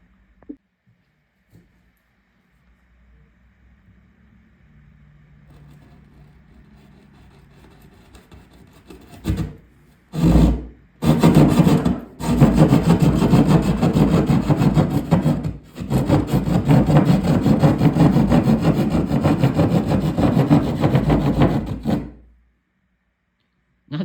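A handmade jab saw bites into a 1/2-inch sheetrock wall, a few short starting strokes giving way to loud, rapid rasping saw strokes that run continuously, close and alone, before stopping abruptly.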